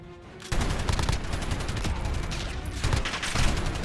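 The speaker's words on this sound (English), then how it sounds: "if you mount the LMG, it just becomes a laser beam" A mounted light machine gun fires in Call of Duty Modern Warfare during a 2v2 match, a sudden onset of rapid continuous automatic bursts after a brief quiet start, loud and dense with a few short breaks in the stream.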